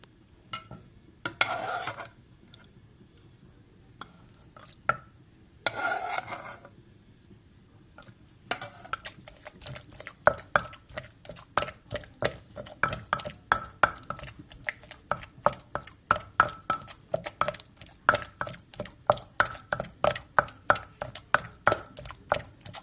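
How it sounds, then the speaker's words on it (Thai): Pestle pounding fish larb in a mortar, a steady run of sharp rhythmic thuds close by, after a few scattered knocks and a pause while water is added. "ตำจนมันเหนียวคุณค่ะแล้วก็เติมน้ำจักหน่อยนี่"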